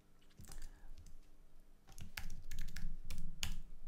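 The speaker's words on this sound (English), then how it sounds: "If I type hello" Typing on a computer keyboard during a Haskell programming session, a handful of distinct key clicks in uneven bursts, close and fairly quiet, with no talk.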